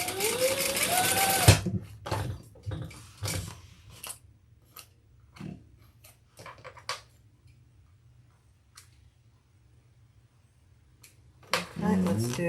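Sewing machine stitching straight across a tote bag in short stop-start runs, with clicks and handling noises between bursts and a voice talking briefly at the start and end.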